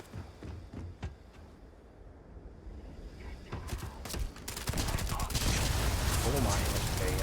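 Modded weapon fire in the Starfield video game starts as sparse sharp shots and builds into a loud, dense barrage over the last few seconds.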